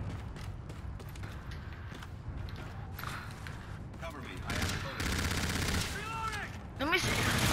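Rapid gunfire and bursts of automatic weapon fire in the video game Call of Duty Infinite Warfare, fairly quiet and continuous with footsteps and mechanical clanks, and players talking over it.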